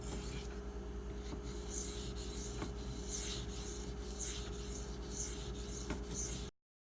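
A knife edge is drawn across a silicon carbide whetstone in quiet, rasping strokes, repeated evenly at close range.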